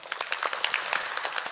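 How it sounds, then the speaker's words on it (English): A conference congregation claps briefly, a short patter of scattered hand claps at moderate distance lasting under two seconds. "Let's give an applause to glorify our Father God."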